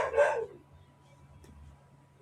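A dog named Nero lets out one close, sharp bark, then falls quiet apart from faint background noise, with a brief hint of another sound at the very end.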